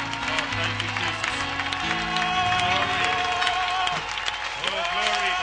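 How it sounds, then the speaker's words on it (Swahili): A church congregation applauds and cheers during a service, a steady wash of clapping and crowd voices running throughout alongside music and singing tones. "Est-ce qu'on peut prendre juste une minute pour acclamer le Seigneur?"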